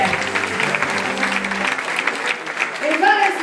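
Audience applause at a radio show finale, continuous clapping with music underneath early on and a voice rising over it near the end.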